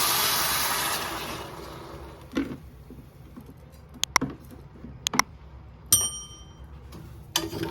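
Water is poured into a cooking pot while ogbono soup is made with cooked goat milk. The pour is a short, soft splash at the start, then quiet light clicks and knocks follow.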